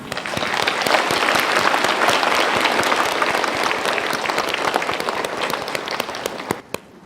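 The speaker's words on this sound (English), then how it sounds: "Please join us in welcoming all of our distinguished guests with a warm Thai applause." A large audience applauds to welcome distinguished guests at a formal ceremony, thick sustained clapping that stays loud for about six seconds before thinning out to a few last isolated claps.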